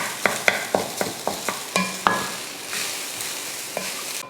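Cooled curry leaf rice stirred in a metal pan, a run of sharp, evenly spaced scraping clinks that give way to softer rustling and one last knock, close and alone without talk.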